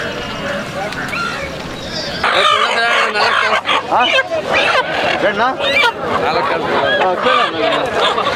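Country chickens cluck and squawk loudly at close range amid the busy chatter of a crowded village market, with people talking over the birds.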